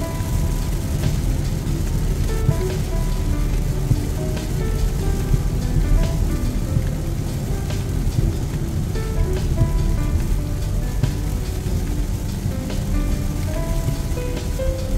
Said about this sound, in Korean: 비 엄청나게 옵니다. 앞이 안 보일 정도로.